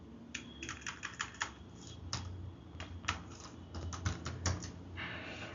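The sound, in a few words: typing entity name on a computer keyboard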